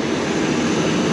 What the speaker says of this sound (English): This has got the 18 liter engine in it